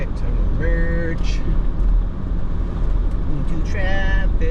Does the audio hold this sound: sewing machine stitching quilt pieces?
no